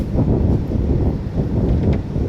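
Gusty wind buffets the microphone in low, rumbling waves, fairly loud and steady for a couple of seconds, at the old souq in Sharjah.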